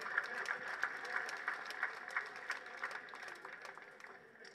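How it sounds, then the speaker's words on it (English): Delegates at a political meeting give a round of applause, dense, steady clapping from a crowd that carries on throughout and fades slightly toward the end. "Another round of applause for him."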